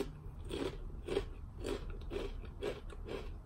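White cheddar chips are bitten and crunched close to the mic, about six distinct crisp crunches in a steady chewing rhythm, with no talking.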